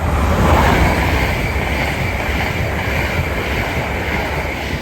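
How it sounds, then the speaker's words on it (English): An Avanti West Coast Evero train passes through Stechford station, a loud continuous rumble and roar of wheels on rails with faint squeal and clatter, close and sustained throughout. "our next train is going to be an Avanti West Coast Evero"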